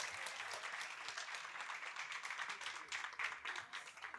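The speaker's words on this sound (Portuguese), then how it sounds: "Uma salva de palmas para esse monstro" An audience at a tax law business panel applauds as panelist Thaleson Souza is called up, a steady stretch of clapping from a moderate crowd at a modest distance.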